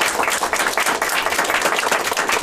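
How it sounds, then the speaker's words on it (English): An audience applauds in a room after thanks to the Rotary Club of Harrisburg, producing a brief, steady patter of many hands clapping at a fairly close, even loudness. "let's have a big round of applause"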